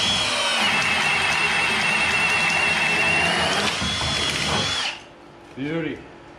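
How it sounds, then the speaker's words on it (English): A power drill whines loudly and steadily for several seconds while drilling a single hole, then stops, followed by a brief voice. "we'll throw that in the drill and pop a hole real quick"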